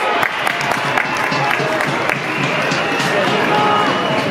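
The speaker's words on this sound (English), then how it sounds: "Suns cheer squad going absolutely mental in the background" Gold Coast Suns cheer squad roaring and cheering at an AFL match in Ballarat against the Western Bulldogs, a dense, steady crowd din with scattered claps and shouts running throughout, with some nearby talk mixed in.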